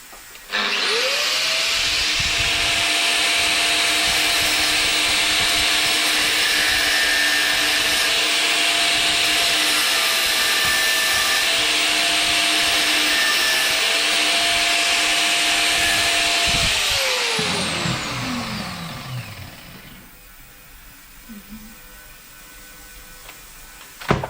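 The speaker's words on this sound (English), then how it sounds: "because I need to have both hands to use the angle grinder" An angle grinder cuts into an old 70-year-old German Fichtel & Sachs Stamo stationary engine, whining loud and steady for about seventeen seconds before spinning down and fading out.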